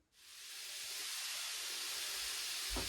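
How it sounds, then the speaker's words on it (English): A steady, bright sizzle of venison steak frying in a pan, rising quickly and holding constant, with a faint thump near the end. "you can definitely hear the steak sizzling over there"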